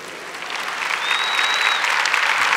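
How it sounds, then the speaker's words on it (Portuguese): Congregation applauding during a Catholic Mass, a dense steady wash of clapping from many hands that swells slightly and holds, with a faint whistle-like tone drifting through the middle. "Ao ouvir, pode aplaudir se você quer."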